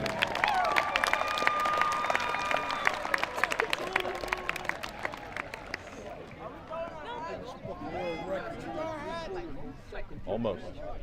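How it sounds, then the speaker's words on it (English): Audience applause fills a 2022 commencement ceremony at a county career and technology center after the welding graduates are named, a dense clatter of hands with music under it, then a voice speaks over the fading claps. "One more round of applause for welding"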